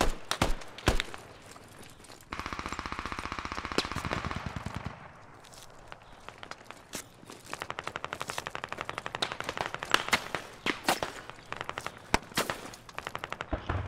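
Incoming gunfire in a military shooter game: sharp single cracks, then sustained rapid automatic bursts of machine-gun fire, some close and loud, others more distant, with a brief hissing passage between volleys.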